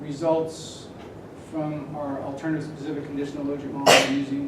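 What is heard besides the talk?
sneeze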